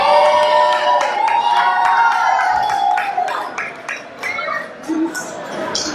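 Wrestling crowd cheering and shouting for a newcomer at an indoor independent show, a loud sustained roar with whoops and scattered claps that eases into lighter chatter toward the end.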